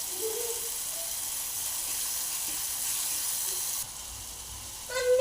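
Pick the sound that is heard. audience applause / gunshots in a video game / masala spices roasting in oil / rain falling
masala spices roasting in oil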